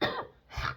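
Two harsh coughs, close and fairly loud, separated by a brief pause, with no talking.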